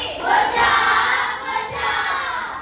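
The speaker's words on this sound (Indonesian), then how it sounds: "tepuk tangan buat kelompok nasi goreng" Fifth-grade elementary pupils in a classroom applaud a student group, a dense, even wash of many small hands clapping together with faint crowd noise, moderately distant and unbroken.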